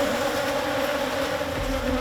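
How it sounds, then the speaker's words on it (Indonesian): Bees swarming around a large wild honey nest outdoors, a dense continuous buzzing drone filling the air, close and steady with no talk. "Asap tetap harus dijaga untuk menghalau lebah-lebah yang masih berkeliaran di sekitar kami."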